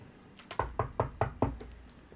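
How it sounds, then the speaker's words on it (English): A run of about six evenly spaced knocks on a front door, the first one faint and the rest sharp and solid, in a quiet room with no talking. "series of knocks on the front door"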